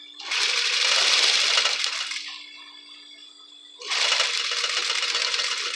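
A sewing machine stitches the inner pocket of a backpack in two loud, steady whirring bursts, split by a quieter pause with a low hum.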